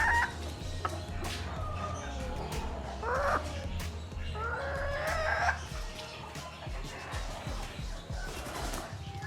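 A black female Cochin Bantam hen with feathered feet clucks and crows nearby, a few drawn-out calls amid low murmuring clucks and faint background noise.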